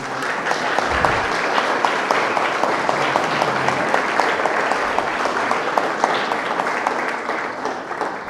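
A crowd applauds steadily and warmly for several seconds, dense clapping filling the room without pause.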